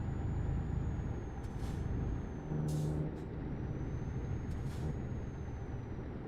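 Air brakes on a heavy-haul truck hiss in short sharp bursts over a steady low engine rumble heard from inside the cab, with a faint whine running beneath and no talking.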